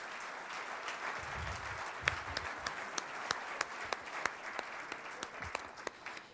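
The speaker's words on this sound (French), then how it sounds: "je pense qu'on peut tous les applaudir" A crowd at a chamber of commerce New Year's wishes evening applauds, the soft wash of clapping settling into a few distinct, evenly spaced claps standing out above it.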